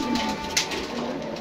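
A pigeon in a loft setup gives a low, soft coo, brief and close against a steady background murmur.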